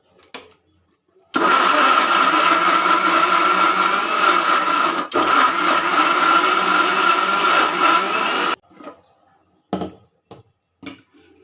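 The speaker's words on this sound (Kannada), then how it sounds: "ಈಗ ಒಂದು ಮಿಕ್ಸಿ ಜಾರ್ ತಗೊತೀನಿ ಮೊದಲಿಗೆ ಹಣಸಿನ ಹಣ್ಣನ್ನು ತರಿ ತರಿಯಾಗಿ ಪೇಸ್ಟ್ ಮಾಡ್ಕೊಳ್ಬೇಕು" A mixer grinder purees ripe jackfruit pulp into a coarse paste, a loud continuous motor whir for about seven seconds with one brief stop in the middle, then quieter taps and handling of the jar.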